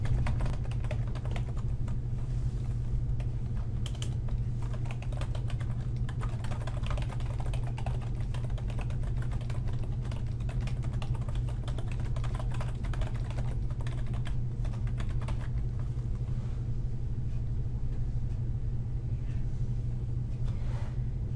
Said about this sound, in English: Please take a few minutes and type in the remaining table information.